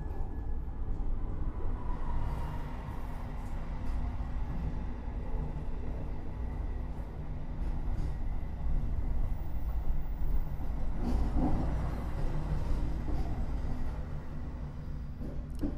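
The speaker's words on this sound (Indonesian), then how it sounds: "Ini ada kereta yang melintas langsung, kayaknya kereta Argo Bromo Anggrek." The Argo Bromo Anggrek train from Surabaya Pasar passes on another track, a steady low rumble and rolling rail noise heard from inside a moving executive-class train, continuous and fairly loud throughout.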